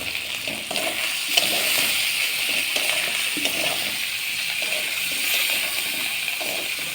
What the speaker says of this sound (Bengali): যে আলু ভাজা ভেজে রেখেছিলাম সেই আলু ভাজাটা ঢেলে আর কি ভালো করে কষিয়ে নেব